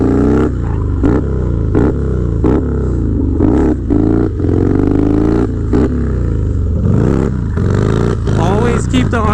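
A Harley-Davidson Dyna motorcycle engine revs hard and stays at high RPM during a drift, loud and close, its harmonic drone rising and falling with repeated sharp blips and throttle bursts throughout.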